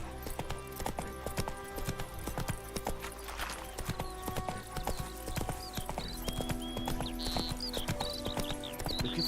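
Hooves of the horse Roach clip-clopping in a fast, steady rhythm in the video game The Witcher 3: Wild Hunt, close and prominent, with a whinny and game music in the background.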